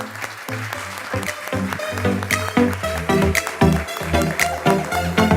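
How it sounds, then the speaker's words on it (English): Audience applause for the winning team at the EBEC Final 2021 closing ceremony, with tonal music or hall sound mixed into the clapping. The applause runs steadily throughout at moderate loudness. "big round of applause for them."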